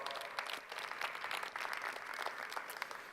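A crowd applauds continuously at a startup pitch competition at Synapse Summit 2019, a dense patter of many hands clapping at moderate volume, sounding slightly distant.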